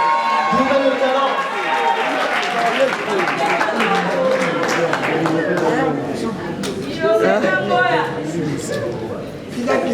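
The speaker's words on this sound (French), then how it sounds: "Est-ce qu'on peut applaudir bien fort pour cette artiste?" Applause and crowd noise fill an awards ceremony honoring an artist, steady clapping mixed with cheering and chatter throughout, loud and close.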